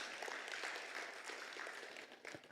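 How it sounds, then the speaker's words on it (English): An audience at a project retreat in Lagos claps in a brief burst of scattered applause, faint and distant, with no talking. "Clap for federal now."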